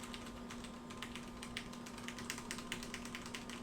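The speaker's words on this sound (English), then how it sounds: "It's a mechanical keyboard." A mechanical keyboard clicks under steady typing, a quiet, rapid run of keystrokes over a faint electrical hum, with no voices.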